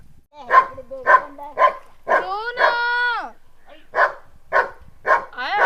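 A series of sharp, evenly spaced barks, broken midway by a drawn-out whining yelp, then more barks; fairly close and loud.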